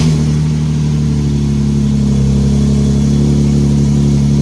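A car engine fitted with a test pipe, catalytic converters removed, runs at a loud, steady idle right up close, with a deep droning rumble and no voices over it.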